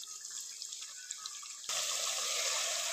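Water runs into a bowl of thick, sour yogurt, a trickle that suddenly swells into a louder, steady pour partway through, close and alone.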